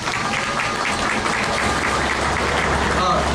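An outdoor crowd at a candlelight cultural rally with writers gives a brief round of applause, scattered clapping mixed with murmuring voices.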